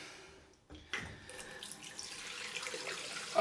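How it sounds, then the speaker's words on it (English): Cold water gushes from a tap into a sink for a head rinse, starting after a brief lull and continuing as a steady close hiss with shifting splashes. "So, cold rinse time."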